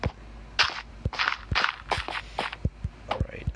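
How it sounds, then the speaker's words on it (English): In Minecraft Lifeboat Skywars, a string of sharp explosions pops and thumps at irregular intervals, about a dozen short blasts mixed with rushing bursts, fairly close and with no talk over them. "Okay, explosions are happening."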